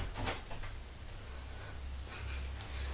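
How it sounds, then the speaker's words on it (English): A house door rattles in its frame, a few short knocking clatters early on over a low, steady indoor rumble, faint and close by with no talk. "That was the door."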